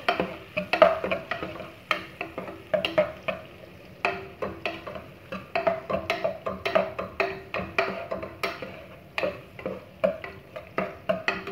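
Onion goes into a pan for Mexican rice, with quiet frying and a busy run of irregular spatula scrapes and taps against the pan, close up and without speech.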